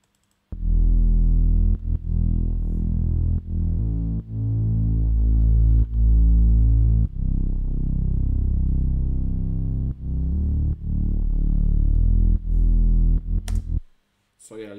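A deep, thick Reese synth bass drones loudly in sustained notes with a wobbling, detuned texture, sidechained to the kick, shifting pitch every couple of seconds before cutting out.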